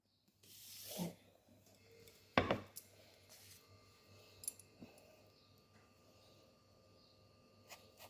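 A knife cutting through a mango, a few soft, irregular slicing and tapping sounds, close and quiet, with one sharper cut near the middle and long pauses between strokes.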